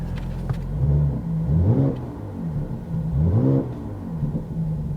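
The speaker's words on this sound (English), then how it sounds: "Put it in Sport Plus mode. I hear a difference in the exhaust." A Mercedes SL55 AMG's exhaust revs up several times in slow surges in Sport Plus mode, a deep rising and falling growl close by, with no talking.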